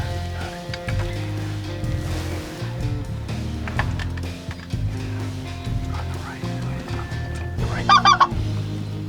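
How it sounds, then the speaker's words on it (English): A flock of specklebelly geese honks in the distance during a goose hunt, overlapping calls drifting on and off over wind and low rumble, with a louder burst of honks near the end. "There's a lot of geese moving, boys."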